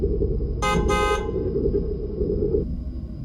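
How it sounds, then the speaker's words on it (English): A car horn honks twice in quick succession from down the street, loud and clear over a steady low rumble of road noise and engine hum. "You can hear Trey's brother honking his horn down the street."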